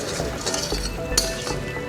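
Pepper chicken masala seasoned with fennel being stirred in a pan, with close scraping and a sharp metallic clink of a spoon against the pan over a faint sizzle, no voices.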